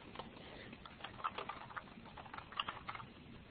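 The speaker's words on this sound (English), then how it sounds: "I'll actually type that in too." Quiet typing on a computer keyboard, a loose run of soft key clicks with a few brighter taps, close by and alone with no talk.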